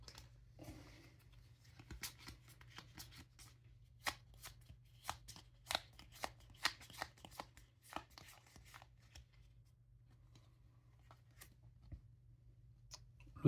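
Cards are drawn and handled during a tabletop session of the ISS Vanguard board game, giving quiet, close papery flicks and snaps in an irregular sequence over a faint steady hum.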